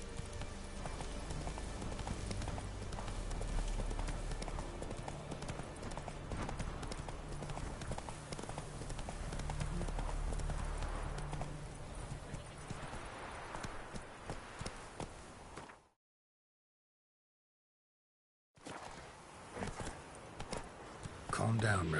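Galloping hooves of Roach, the horse in The Witcher, beat in a rapid, continuous clip-clop under a dense game soundscape, with speech over it, a brief silent gap near the end, then the hoofbeats return.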